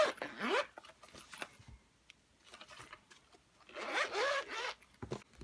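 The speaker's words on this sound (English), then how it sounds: "and it'll zip up just fine." A zipper runs along the soft cover of a Leuchtturm 1917 A5 notebook in two quick bursts separated by a quiet pause, close and crisp.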